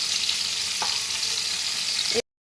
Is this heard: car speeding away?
no